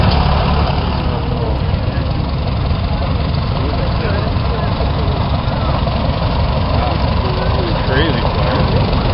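A 1944 Allis-Chalmers B tractor engine idles outdoors at a harvest reunion show, a loud, continuous rumbling drone with wind noise and faint voices mixed in.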